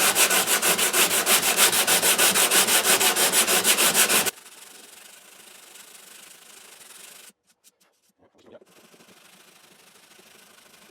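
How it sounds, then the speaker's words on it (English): Hand sanding of the finish on a Larrivee guitar body, a fast rhythmic scratchy rubbing that runs loud for several seconds, then drops to a faint hiss with brief pauses. "As I'm sanding, I'm trying to sort of keep that symmetry."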